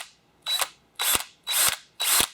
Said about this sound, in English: And I'm pulsing the drill.